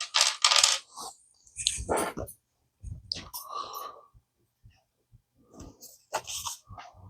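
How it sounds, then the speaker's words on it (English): A dog knocks tabletop game dice onto the floor in a series of small, sharp clattering clicks and rattles, some bursts close and loud, others faint, separated by brief silences. "He just sat there and started throwing dice on the floor"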